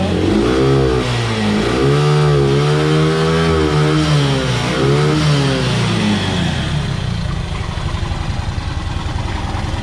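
A Yamaha YTX 125 motorcycle, previously not starting because of a CDI fault, runs loud and close, revving up and down in rising and falling sweeps before settling into a rough, steady idle.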